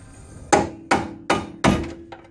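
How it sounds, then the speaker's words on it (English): A heavy hammer drives a tubular K-member into a car, with four loud, evenly spaced metallic blows, each ringing briefly before the next. "Need a big, need a heavier hammer."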